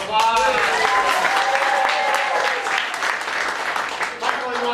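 A live improv comedy audience breaks into loud, sustained applause with cheers and whoops mixed in, the clapping staying strong before easing slightly near the end.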